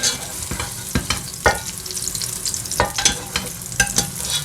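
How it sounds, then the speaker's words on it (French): Freshly fried food, onions among it, being tipped into a colander to drain off excess oil from cooking for chakchouka; a steady crackle and sizzle with sharp clattering knocks every second or so, close by. "je vais la mettre directement dans ma passoire. Et on va égoutter l'huile"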